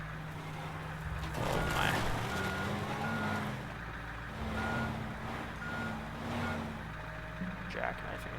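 Truck with a boom in Teardown driving and reversing into a trailer, a low engine rumble with steady reversing beeps, with someone speaking briefly over it.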